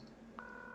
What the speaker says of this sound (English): You dialed the number.